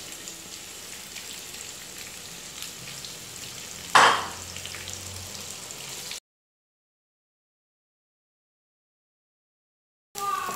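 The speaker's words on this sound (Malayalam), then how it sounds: "ആ എണ്ണയിലേക്ക് നമുക്ക് എടുത്ത് വെച്ചിട്ടുള്ള ഓണിയൻ ചേർത്ത് കൊടുക്കാം." Onions added to hot oil for chicken dum biryani give a steady close sizzle with a sharp clatter as they drop in, then the frying cuts out into silence before briefly resuming.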